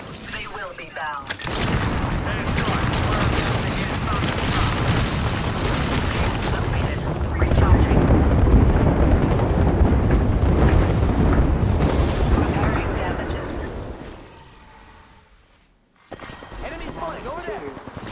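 Booming grenade explosions and gunfire in Apex Legends gameplay roar loud and sustained for many seconds, then fade near the end before the action resumes.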